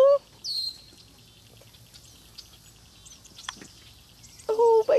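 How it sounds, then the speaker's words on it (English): A baby bird chirps during a rescue, a few thin, high cheeps scattered through a quiet stretch, with a louder burst of calls near the end; no one speaks. "Oh, baby bird."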